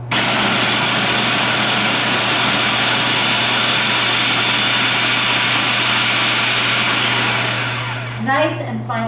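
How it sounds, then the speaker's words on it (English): Food processor running on high, chopping onions for latkes; a loud, steady motor whir with constant hum holds throughout, then winds down near the end with a brief flutter as it stops. "We're about to turn on our food processor on high."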